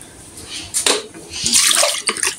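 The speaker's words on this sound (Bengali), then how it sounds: "একটু এটা ধুয়ে নিই।" Tap water runs in a kitchen sink while something is rinsed by hand, with uneven splashing bursts that rise and fall, close and fairly loud.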